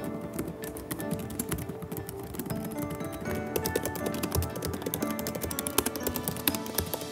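Typing on laptop keyboards, an M1 MacBook Air and a Lenovo Yoga Slim 7, heard close up as a dense, quick run of light key clicks and taps with no talking.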